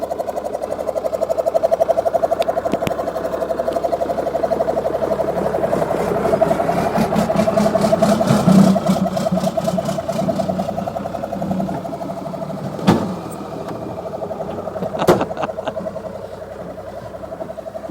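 A 4x4 off-road vehicle engine runs with a steady, droning whir that holds for the whole stretch. A couple of sharp knocks break through near the end.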